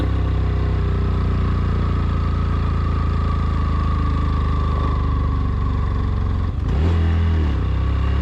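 A motorcycle climbs a steep hill road from Bogalake toward Keokradong in low gear. Its engine drones loud and close without a break, and the pitch shifts abruptly near the end.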